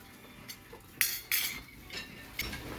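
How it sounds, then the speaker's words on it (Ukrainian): Several sharp metallic clinks ring out at uneven intervals, like a metal ladle knocking against other utensils, with quieter handling noise in between. "металевий ополовник"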